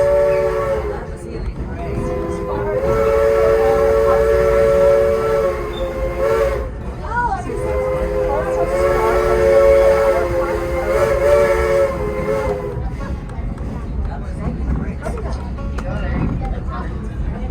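A Nevada Northern Railway steam train whistle sounds in long, loud sustained blasts, repeating twice over a rumbling ride along the old 1907 line toward Copper Flat, with people talking underneath.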